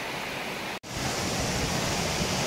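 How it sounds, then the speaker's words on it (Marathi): The Marleshwar waterfall in the hills of Konkan roars as a dense, steady wash of falling water, loud and close, broken once by a split-second dropout, with no voices. "हा बघा आपला मार्लेश्वर धबधबा. आवाज बघा कसा येतो."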